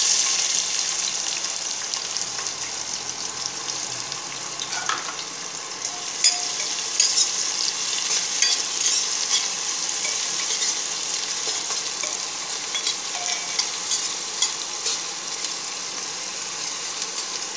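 Chopped onion sizzling and frying in a pan for tomato rice, a continuous crackling hiss with occasional stirring scrapes, close and steady throughout.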